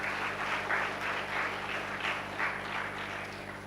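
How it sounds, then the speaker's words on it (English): Audience applause for the parents at an IIT Madras convocation ceremony, steady crowd clapping heard at some distance, moderately quiet and unbroken, with a faint steady hum underneath. "a big thanks and a round of applause to all the parents in the room"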